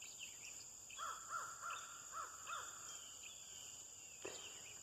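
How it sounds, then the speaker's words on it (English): Birds calling outdoors at sunrise: a series of rhythmic crow-like caws at moderate distance, with a steady high insect drone underneath and a short sharp knock near the end. "Listen to those birds sound."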